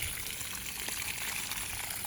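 Homemade liquid fertilizer brewed from vegetable and fruit waste is poured out in a steady, gushing splash that runs unbroken throughout, close and moderately loud.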